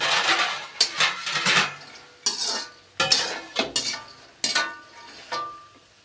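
Makhana (fox nuts) roasting in a pan, stirred with a metal utensil in a series of sharp scraping and rattling strokes, close and fairly loud, with brief pauses between bursts.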